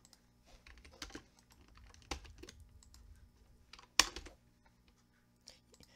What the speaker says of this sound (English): You can hear the keys clicking and the command blocks opening